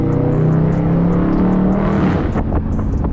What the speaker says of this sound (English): hit that shift and you'll get a nice little pop and that nice little roar